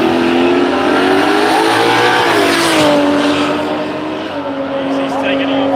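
A drag racing car launches hard off the line at a Street Machine Drag Challenge meet, its loud engine roaring steadily, rising in pitch and then easing as it pulls away, with voices faintly in the background.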